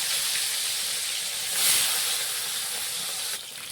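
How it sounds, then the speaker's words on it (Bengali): Steady bright sizzling hiss of catla fish frying in hot oil, continuous and close, swelling briefly in the middle before easing slightly. "তেলটা গরম হয়ে গেছে। একে একে করে আমরা মাছগুলো ছেড়ে দেবো।"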